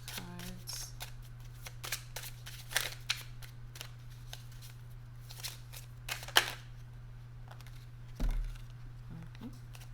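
Tarot cards being shuffled and dealt, soft papery flicks and sharp snaps spaced irregularly and close, over a steady low hum with a brief voice in the room.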